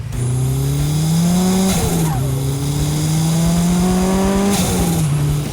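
Two cars, a GT-R-engined Datsun 240Z and a turbocharged Isuzu Gemini, roar close by under hard acceleration in a roll-on run, their engines climbing in pitch through gear changes with brief dips between shifts.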